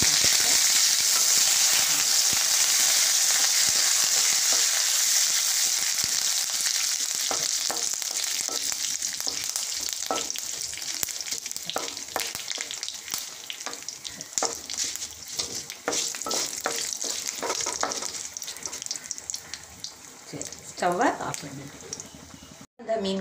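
Curry leaves crackle and sizzle in hot oil as fish curry tempering is cooked, an intense frying hiss that settles into scattered pops and stirring clicks, with a background voice.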